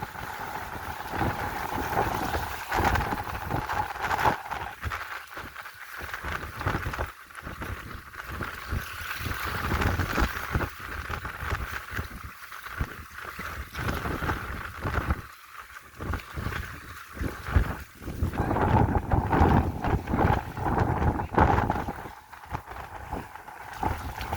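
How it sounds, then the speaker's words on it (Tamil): Strong wind roars and buffets across a coastal road flooded by a sea surge, a loud, continuous, gusting rush that swells and dips over many seconds with no talk. "நடக்கவே விடுதில்லை, அவ்வளவு காத்து தள்ளி கொண்டிருக்கு பாருங்க."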